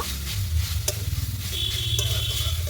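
Chalta (elephant apple) frying with salt, turmeric and chilli gives a close, steady sizzle with stirring scrapes and a couple of sharp utensil clicks; nobody talks.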